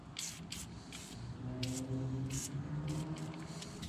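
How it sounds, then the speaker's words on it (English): PB Blaster penetrating oil sprayed onto the brake rotor of a 2008-2012 Mustang Shelby GT500, into the wheel stud holes, in a series of about seven short hissing bursts, close and fairly quiet, over a low background hum. "I'm going to go ahead and just put some PB Blaster on there. I'm going to spray it into the wheel stud holes"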